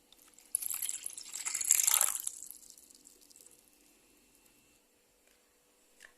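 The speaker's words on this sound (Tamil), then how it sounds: "இதில் வந்து 600 ml வந்து ஆர்ஓ வாட்டர் வந்து நான் ஆட் பண்ணிக்கிறேன்." Reverse-osmosis water, 600 ml, poured into an empty bowl for homemade handwash: a close splashing pour that builds for about two seconds, then fades into faint trickles and drips, with no voices.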